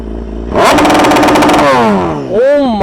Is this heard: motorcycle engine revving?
yes